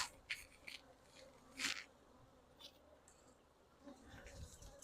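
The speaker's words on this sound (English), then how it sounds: "So yep, they flying around my head. I can hear them buzzing." Honey bees buzz around an opened hive, their faint, thin drone rising and falling as individual bees fly close past, with a few soft clicks and rustles against quiet outdoor background.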